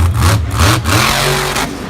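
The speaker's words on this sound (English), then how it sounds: "Yeah, that truck's popping a little bit in the air." Monster truck engine at a Monster Jam freestyle event in Tampa, loud and close, revving in surges with sputtering pops and brief drop-outs as it stalls, with no talking.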